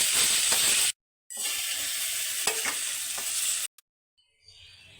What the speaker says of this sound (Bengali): তেল গরম হয়ে গেছে শুকনো লঙ্কা ফোড়ন দিয়ে দিচ্ছি আর দিচ্ছি পেঁয়াজ